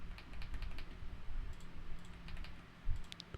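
Light tapping and clicking on a computer keyboard while someone sets up a Laravel admin template, with scattered quick keystrokes in short bursts, fairly quiet and close, and no talking.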